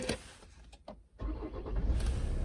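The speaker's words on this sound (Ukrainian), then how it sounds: "зараз заведемо безключовий доступ і старт-стоп, запуск кнопкою" A 2011 Kia Sorento 2.2 diesel with keyless push-button start cranks briefly and catches, settling into a steady low idle, close by with no talk.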